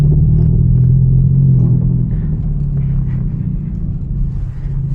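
Hyundai Genesis Coupe with over 300 horsepower cruising at night, its engine and exhaust a loud, steady low rumble heard from inside the cabin, easing slightly partway through with no voices.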